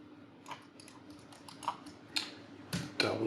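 Scattered key presses on a computer keyboard during 3D modeling work in Maya, a handful of light, close clicks spaced irregularly and growing slightly louder toward the end.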